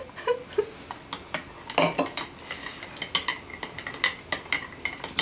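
A cranberry mead mixture being stirred, with a utensil knocking and scraping against the container in quick irregular clinks and taps, close and clear, and no voices.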